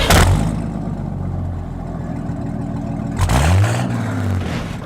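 A hot rod engine at the Marysville street rod cruise fires up loud and close with a deep rumbling idle, then is revved sharply, its pitch sweeping up before settling back to a throbbing idle.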